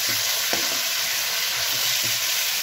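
Pork heart slices fry in a pan with a steady, loud, continuous sizzle that fills the whole stretch, with no voices.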